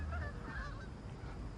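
Canada geese honk faintly in the distance, the calls coming over a steady rushing background.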